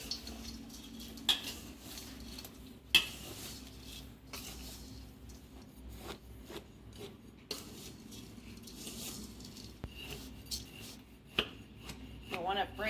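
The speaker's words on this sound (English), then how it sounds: "And now we will stir our dry ingredients." Dry granola ingredients, including sugar and salt, are stirred in a bowl in a home kitchen, giving soft scraping and rubbing with occasional sharp clicks of the utensil against the bowl, fairly quiet and close.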